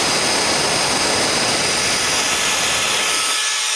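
A loud, steady rushing roar of a Nitecore BB2 electric air blower running at high speed, constant and close with a faint whine on top.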